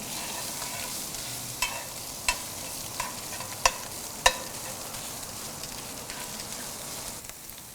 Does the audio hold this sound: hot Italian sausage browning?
yes